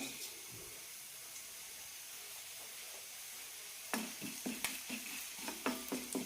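Fennel and shahi jeera seeds crackling in a little hot oil, a faint steady sizzle that turns into a run of sharp pops and spits toward the end.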